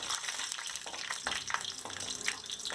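Mustard seeds, chana dal and curry leaves spluttering in hot oil, a dense crackle of rapid pops and sizzle, close and continuous.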